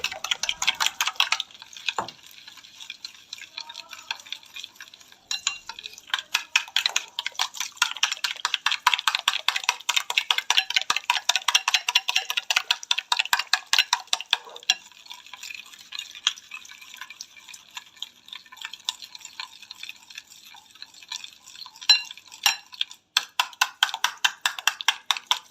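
A whisk beats a gram flour and sugar mixture for besan halwa in a bowl, giving rapid steady clicking strokes that run nearly continuously with brief pauses, close and fairly crisp.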